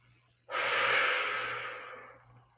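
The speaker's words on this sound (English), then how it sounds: "And breathe." A single deep breath taken during a gentle neck stretch, a long, airy inhale or exhale rising quickly and fading over about two seconds, close and clear, with no talking.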